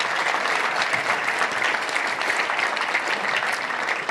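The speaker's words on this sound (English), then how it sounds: "Let's give all of them a round of applause" Audience applause at a Little Rock Touchdown Club meeting for the club's sponsors, a steady, even wash of many hands clapping that holds at one level throughout.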